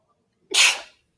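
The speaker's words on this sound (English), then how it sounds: "sorry, I sneezed." One loud, close human sneeze bursts out after a moment of silence, a sharp breathy blast that fades quickly.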